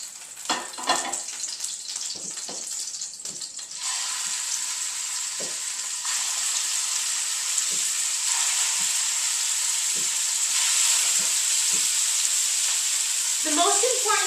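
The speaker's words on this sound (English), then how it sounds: "It's time to get our steaks in there." Steaks hit a hot pan with a burst of clatter, then settle into a loud, sustained searing sizzle that swells slightly over time.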